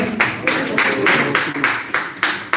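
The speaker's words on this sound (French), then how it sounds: "On va applaudir s'il vous plaît." Audience applauding at a press conference, a steady burst of clapping from a crowd in a room, rising and falling in rhythmic waves for a few seconds with no talk over it.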